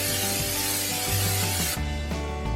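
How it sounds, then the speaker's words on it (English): A can of Pam original canola oil cooking spray hissing steadily into a pan, loud and close, one continuous spray lasting a couple of seconds with no voices. "heavily saturate your pan with some good old-fashioned Pam original"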